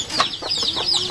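A chicken clucks in a few quick, close calls, short and bright over a soft background hum, with no talk.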